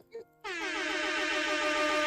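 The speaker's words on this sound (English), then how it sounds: "where's my air horn weapons?" Loud, blaring air horn sound effect that kicks in after a brief snippet of speech and holds steady and sustained to the end, its stacked harmonic tones wavering slightly.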